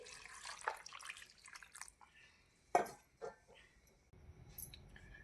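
Pieces of cleaned, cut bombil fish are rinsed in water, with light splashes, drips and sloshing that come and go in short bursts close by, followed by a brief quiet stretch.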